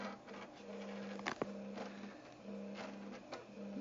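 3D printer running a print: quiet stepper-motor hum with a steady low tone broken by brief pauses and short clicks, with soft shifting whirs as the head moves.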